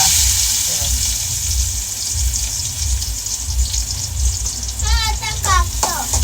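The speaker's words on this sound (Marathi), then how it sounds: "आता आम्ही टाकतोय कांदा." Onion tossed into hot oil gives a steady close hiss and crackle of frying, with people talking and a voice rising over it toward the end.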